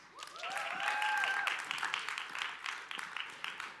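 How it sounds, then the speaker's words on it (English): An audience applauds at a tech conference stage, a sustained wash of clapping that swells and then tapers off, with a brief whistle or cheer rising above it near the start. "Give yourself a round of applause."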